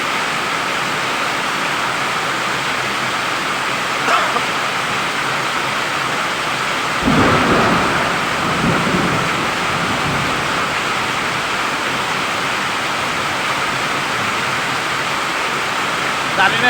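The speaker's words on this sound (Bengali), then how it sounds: "বৃষ্টি যেভাবে নামছে" Heavy rain pours steadily during the Malaysian rainy season, a dense broadband roar like runoff, with a louder surge of downpour or rumbling thunder from about seven seconds onward.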